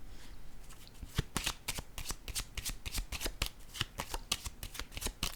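Tarot cards are shuffled by hand in a brisk, continuous run of crisp riffling flutters and slaps, close up and without speech.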